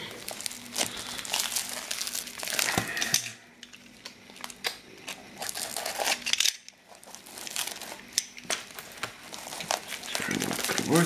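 Crinkly plastic packaging wrapped in tape is pulled and torn open up close, with irregular rustling, crackling and sharp tape rips in bursts separated by brief pauses.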